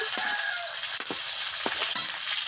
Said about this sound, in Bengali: রসুনটাকে একটু তেলে ভালোভাবে নেড়ে নেব